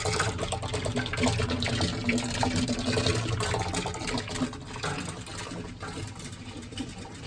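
Water pours steadily and splashes into a fish tank, a constant rushing, gurgling flow that fades slightly toward the end.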